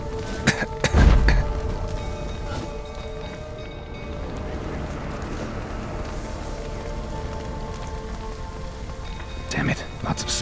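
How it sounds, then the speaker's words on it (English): Steady rain pours down in The Witcher 3: Wild Hunt, a continuous hiss of drops on surfaces that runs throughout, with a thump near the start and someone speaking briefly over it. "Looks like rain."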